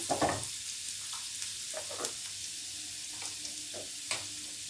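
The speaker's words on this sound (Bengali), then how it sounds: "আর 1 চামচ আদা কুচি দিয়ে ভালো করে ভাজতে হবে।" Chopped ginger frying lightly in oil for egg do pyaza, a soft steady sizzle with scattered small crackles and faint stirring taps, fairly quiet.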